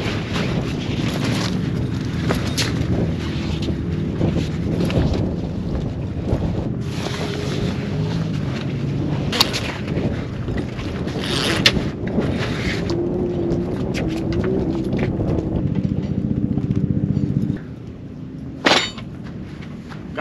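Wind buffeting a tent staked in desert sand at an off-road racing event, a loud continuous rumbling roar with gusting microphone noise and flapping fabric, easing briefly near the end.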